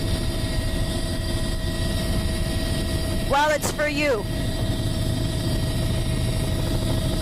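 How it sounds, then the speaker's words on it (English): Helicopter engine and rotor kept turning on the ground, a steady loud drone with harmonic whine throughout, while people talk over it in the cabin. "We're going to keep the helicopter turning here."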